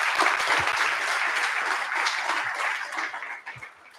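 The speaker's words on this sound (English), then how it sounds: "you deserve a massive round of applause" Sustained crowd applause at the closing ceremony of an ETHSingapore event, dense clapping from a large audience that holds steady, then gradually thins and fades out toward the end.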